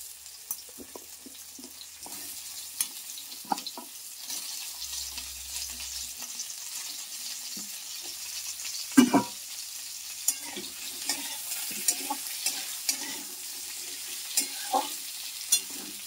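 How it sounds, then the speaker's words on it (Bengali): Potatoes and sajne drumsticks fry in a pan for a Bengali posto dish, giving a steady, close sizzle with occasional stirring clinks and no talk. "এই আলুগুলো একটু ভেজে নেব 2 মিনিট"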